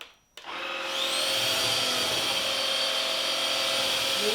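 A vacuum cleaner switches on after a brief quiet moment and runs at full power, a loud, steady whine with a rising pitch as the motor spins up, with no one talking over it.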